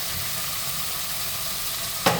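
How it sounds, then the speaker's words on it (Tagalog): Chicken pieces with the skin removed fry in a pan, a steady close hissing sizzle throughout with a brief clatter near the end. "fry natin sila hanggang brown siya."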